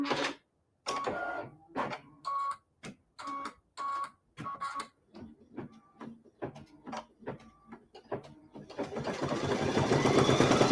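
Embroidery machine sewing a blanket stitch on a quilt wall hanging: close, rhythmic bursts of mechanical needle stitching with short pauses between them, ending in a longer continuous whir.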